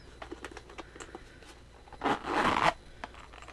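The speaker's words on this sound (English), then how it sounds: "The zipper works." A zipper on a pair of nearly new shoes is run open and closed at close range, starting with faint ticks and scrapes and then a longer loud rasping pull, with no talk.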